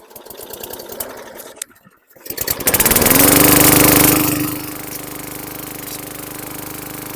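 A 2018 Hyper Tough lawn mower with a Briggs & Stratton engine sputters briefly, cuts out, then roars to life loud and close before settling into a steady, even running drone.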